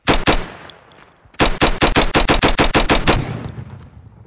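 Machine gun fire in a video game: a short opening burst, then a rapid run of about a dozen sharp, loud shots in steady rhythm, sounding close with no talk.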